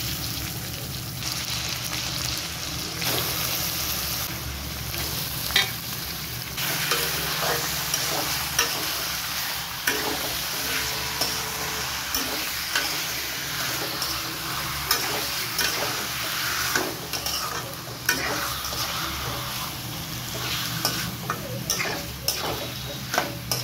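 Sliced onions fry and brown in a pan, a steady sizzling hiss with regular scraping stirs ticking along at a steady rhythm, close and continuous.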